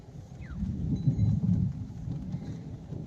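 Steady rain falls during cool, wet weather, a broad low rumbling wash that swells slightly in the middle and holds constant throughout, with no voices.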